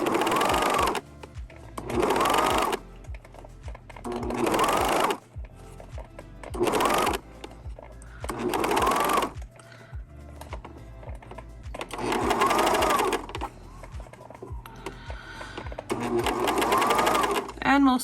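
A sewing machine stitches a folded garment hem in the round, running in repeated bursts of a few seconds each with short pauses between, loud and close with a steady hum underneath.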